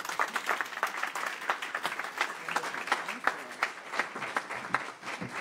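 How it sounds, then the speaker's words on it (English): Sustained applause from a crowd, dense rapid clapping filling the room at a steady, fairly loud level throughout. "a big round of applause once again for all of our panelists"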